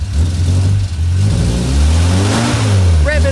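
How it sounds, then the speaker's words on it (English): Near and loud, a classic frogeye Sprite's engine burbles at idle and then revs, its note rising and falling in a throaty, uneven drone that ends with a brief higher whine. "in his little frog eye sprite, revving the engine."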